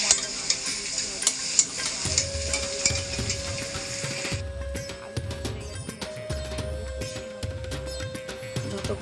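Spices, tomatoes and chickpeas with potatoes and pointed gourd sautéing in oil, a utensil scraping and stirring in repeated strokes over a bright sizzle that softens midway, close and with no talking.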